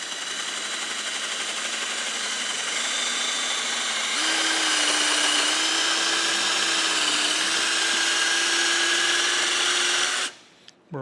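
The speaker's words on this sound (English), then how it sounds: "I went and sharpened my drill bit after I stripped all the teeth off of it" A drill with a freshly sharpened bit bores through metal, giving a sustained whining grind that climbs slightly in pitch partway through, loud and close, then cuts off abruptly near the end.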